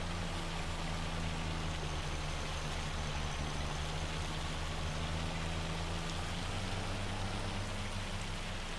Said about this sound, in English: There's just so much hail coming down, it's hard to not have damage, right?